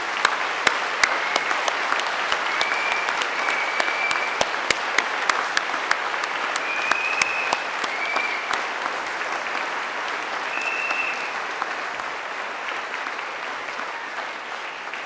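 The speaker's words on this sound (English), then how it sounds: "let's give them all a thunderous round of applause" Sustained applause from a large audience at a university graduation ceremony, a dense wash of many clapping hands holding steady for about fifteen seconds, with a few sharper claps standing out near the start and no talking over it.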